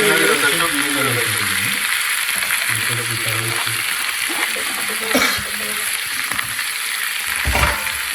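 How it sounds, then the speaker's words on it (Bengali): Winter radish greens fry in a pan with a constant crackling sizzle and occasional stirring scrapes, close up, while a voice talks faintly underneath at times. "এখন আমি এগুলো ভাজি করব"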